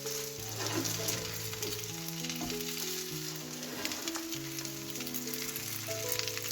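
Chicken cutlet fries in hot oil in a pan, a steady, dense crackling sizzle that holds at an even level throughout, with soft tonal kitchen hum beneath and no talking.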